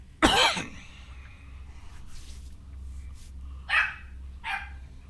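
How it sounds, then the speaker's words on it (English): A dog barks as a sound effect during a tabletop roleplaying game: one sharp, loud bark near the start, then two fainter barks spaced apart later over a low steady hum. "You hear barking"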